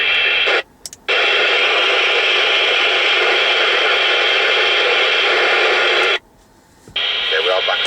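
Harrier CBX UK FM CB radio transmission received on low power, a loud hissy, noisy voice signal with squelch breaks cutting it out twice.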